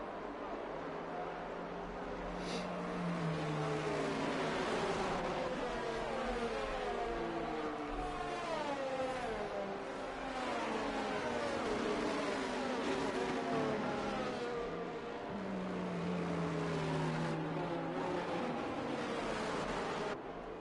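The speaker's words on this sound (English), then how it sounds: "Safety car makes its way through the first sector here" Safety car lapping a track in a sim racing game at Melbourne, its engine note rising and falling in wavering sweeps through the corners, steady and fairly loud throughout.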